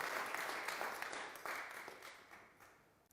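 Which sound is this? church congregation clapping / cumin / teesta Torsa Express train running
church congregation clapping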